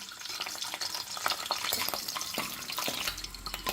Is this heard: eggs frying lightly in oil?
yes